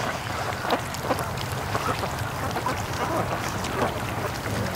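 Ducks on a lake beside a canoe, with scattered quacks and splashy water movement over a steady outdoor background, moderately near and fairly soft.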